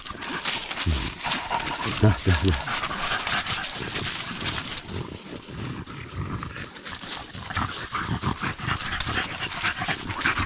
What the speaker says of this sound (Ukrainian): Ну, от собакіни, а.